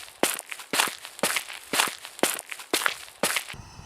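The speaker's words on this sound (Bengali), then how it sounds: "মাটি খোঁড়ার মতো শব্দ।" Digging soil in a graveyard at night, rendered as a cartoon sound effect: seven sharp, evenly spaced crunching strokes, close and fairly loud, with no talk.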